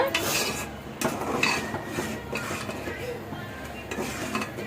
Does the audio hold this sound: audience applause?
no